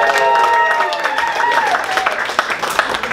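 Applause from a comedy audience at a live show in Vegas, building under a voice and tone at first, then continuing as loose clapping and crowd noise.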